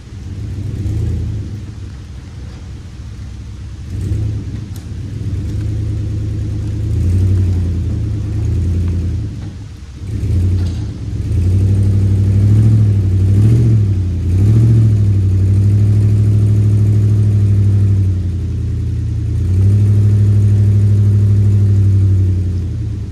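A truck's engine rumbles and revs repeatedly while pulling old salvaged equipment, a loud low drone rising and falling in long surges, with a brief dip midway before climbing again.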